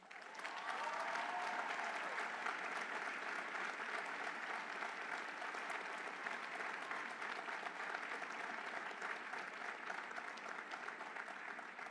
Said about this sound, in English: Once again, we applaud these graduates for their outstanding scholastic accomplishments